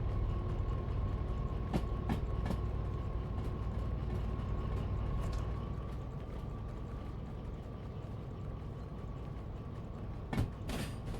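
A big diesel locomotive runs at a coal yard in the train game Derail Valley, giving a steady low rumbling drone with a faint whine and a few sharp metallic clicks and creaks, with no talking.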